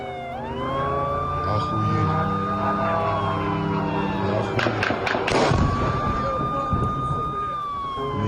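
A drone strikes a building in Kazan, a burst of heavy thuds and a blast heard amid a wailing emergency siren that rises and holds steadily before and after, with traffic noise underneath.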